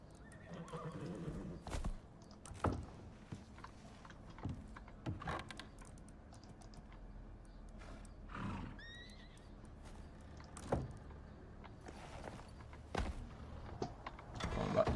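A horse in the survival video game ICARUS whinnies and snorts while its hooves clip-clop at intervals, mixed with scattered game clicks and thuds, with no talk over it.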